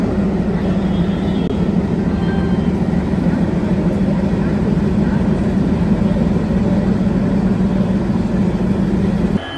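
A Vande Bharat Express running from Delhi to Amritsar, heard from inside an executive class coach. A steady, loud low rumble and drone continue without a break, and no distinct events stand out.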